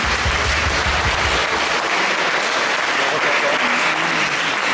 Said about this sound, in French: Vous pouvez l'applaudir d'ailleurs